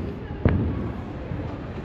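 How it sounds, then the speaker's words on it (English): Fireworks burst far off after an evening at a theme park, a single muffled thump standing out briefly over a steady background hum. "Fireworks still going off there at the distance."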